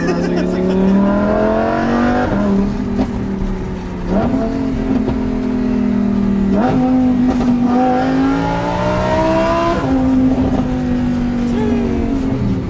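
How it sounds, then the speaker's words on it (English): A 2020 Lamborghini Huracan EVO fitted with a Rift titanium rear-section exhaust accelerates hard through several gear changes, its engine climbing in pitch and dropping at each shift, loud and close throughout. "so the Rift exhaust sounds absolutely amazing"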